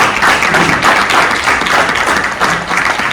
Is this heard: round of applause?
yes